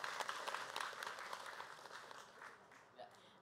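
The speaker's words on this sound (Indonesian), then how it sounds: "Tepuk tangannya dong." A studio audience at an Islamic talk show claps in a brief burst of applause that starts full and gradually thins out and fades over a few seconds, fairly faint overall.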